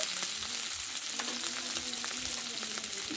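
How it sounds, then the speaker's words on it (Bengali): Tomato, salt and turmeric frying together in hot oil for a fish curry with mustard paste, giving a steady close sizzle with faint stirring clicks throughout, no talking. "হলুদ গুঁড়ো এই মশলাটা ভালো করে কষে নিব"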